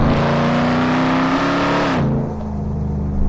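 A Hennessy Mammoth pickup truck accelerating hard, a loud, close engine roar rising in pitch, then dropping sharply as it shifts or lifts off.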